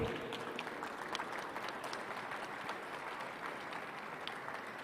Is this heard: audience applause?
yes